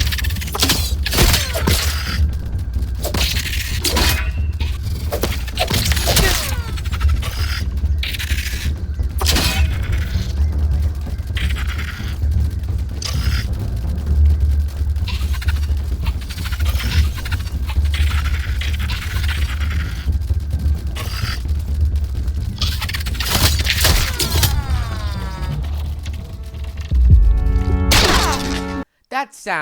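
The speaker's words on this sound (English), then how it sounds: "That sound was of all my armor breaking." A dense mix of combat from the video game Grounded: repeated whacks, thuds and a shattering crack as the player's armor breaks, busy and loud throughout, ending in an abrupt cutoff.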